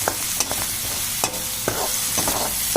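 Green chillies fry in a pan with a constant loud hiss, broken by sharp scraping clicks as a utensil stirs them several times.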